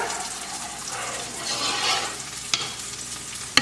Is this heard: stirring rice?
yes